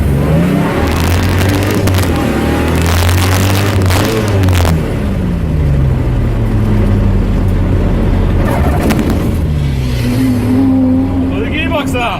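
Supercharged car launching hard down a drag strip, its engine roaring loud and rising in pitch through repeated surges and gear changes, with voices in the background.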